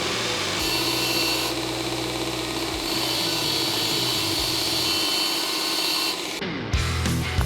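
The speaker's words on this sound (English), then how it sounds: "we're going to sharpen our tungsten on our fancy new grinder here" Bench grinder sharpening a tungsten electrode for TIG welding: a steady high whine with grinding rasp, continuous and close, shifting briefly as the electrode is pulled away near the end.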